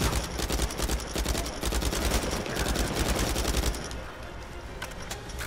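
Sustained automatic gunfire aimed at the player in Uncharted 4, a loud, continuous rattle of rapid shots filling the scene, easing slightly near the end.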